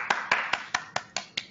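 Seven sharp, evenly spaced hand claps from a single person, close and crisp over an online meeting microphone, with no talk.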